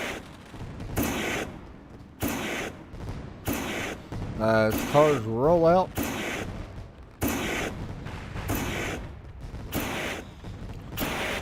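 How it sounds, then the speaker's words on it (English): Fireworks burst in a street stock racing game at an all-star event, sounding as repeated, evenly spaced loud bangs roughly once a second, with a voice talking briefly partway through. "Fireworks going up."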